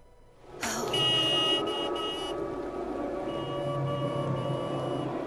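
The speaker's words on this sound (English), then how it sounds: "Honk the horn." A car horn blares loud and close in the survival-horror video game Siren, holding one long sustained tone that starts abruptly and carries on to the end, alone with no voices.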